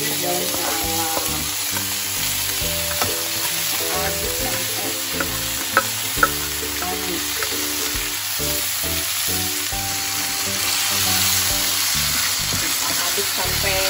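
Salted peda fish stir-fried with green chili, green tomato and bay leaves in a hot pan, giving a loud steady sizzle with scraping stirs and a few utensil clicks, no talking.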